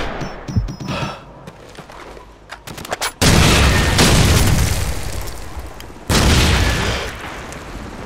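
In Call of Duty 4: Modern Warfare, a frag grenade explodes with a sudden loud boom that rumbles and decays, followed by a second heavy blast a few seconds later amid lighter scattered gunfire beforehand.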